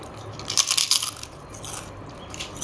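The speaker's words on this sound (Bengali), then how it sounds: "গরমা গরম পাঁপড় ভাজা" Hot, crispy fried papad bitten up close, giving a few sharp crunches in quick succession followed by softer crackling chewing.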